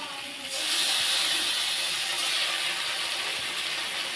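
Spices fry in a blackened wok while being stirred, a loud, steady sizzling hiss that swells sharply after the first half second and holds, close by.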